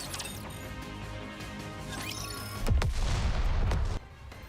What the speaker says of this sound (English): An explosion sounds from afar.